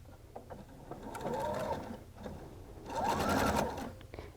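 A sewing machine stitches two fabric pieces together with a quarter-inch seam, its needle running in two steady whirring bursts separated by a brief slowdown, close and moderately loud.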